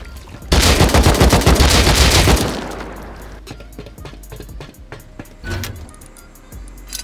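Assault rifle gunfire in the survival game Rust: a loud, dense burst of rapid automatic shots for about two seconds, followed by quieter scattered clanks and a couple of sharp single impacts.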